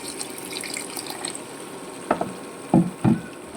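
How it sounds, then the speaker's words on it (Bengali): Water poured into a pot of cooking duck meat, a few brief splashy bursts near the end after a quiet kitchen hum. "হালকা পানি দিব"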